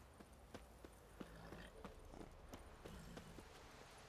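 Hooves of the horse Roach clip-clop at a walking pace in The Witcher 3, a steady run of soft, regular hoofbeats close by over a quiet outdoor ambience, with no talking.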